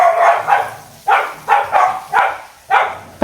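Dogs at home bark in loud, close bursts, about six sharp barks in an irregular rhythm with brief pauses between them.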